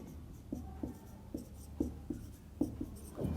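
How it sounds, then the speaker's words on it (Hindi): A pen taps and scratches on paper in short, quiet strokes while a maths example is written out, spaced irregularly over a faint steady room hum. "एग्जाम्पल लिखता हूँ आपको मैं"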